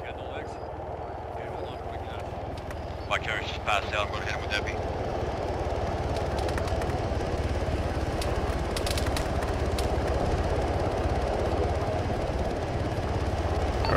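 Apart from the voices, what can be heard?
military helicopter arriving, from a video game (Arma)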